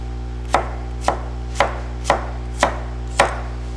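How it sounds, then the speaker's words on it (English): A knife chopping garlic into thick rounds on a cutting board, six crisp, evenly spaced cuts close up over a steady low hum. "So cut it into rounds, and fairly thick"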